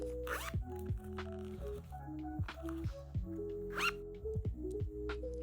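A zipper on a plush pencil case is worked in several short, close rasping pulls over soft rustling and handling.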